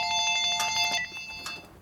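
A telephone rings in a garage during a Harley-Davidson 5-speed transmission rebuild, giving two bright trilling bursts that fade out, close and clear with no speech.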